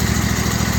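Engine idling after a cold start with an old starter Bendix, a loud, close, steady rhythmic chugging pulse throughout, running alone as it warms up.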